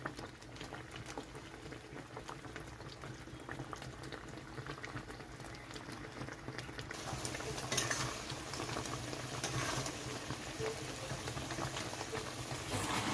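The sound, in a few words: mango boiling in sugar syrup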